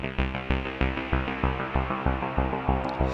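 A repeating analog synth pattern pulses in a steady rhythm, each note blooming into a reverberant tail, rich and warm with no voices.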